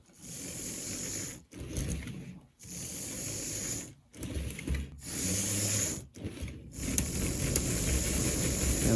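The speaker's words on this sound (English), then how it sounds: "this motor that I rewound has more than enough power to slip the wheels" The rewound motor of an Athearn DD40 model locomotive runs in bursts, whirring and buzzing close up. Each burst is broken by short silences where it cuts out, and the motor keeps running steadily near the end.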